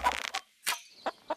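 Chicken clucks in the Winds of Valen video game: a burst of squawking clucks, then three short separate clucks spaced out over a second and a half, close and clear with no talking.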